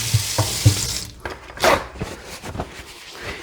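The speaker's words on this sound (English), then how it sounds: "I'm going to rinse my hands." A kitchen tap runs as hands are rinsed of egg, giving a few soft splashes and a brief gush of water close by, with no talking.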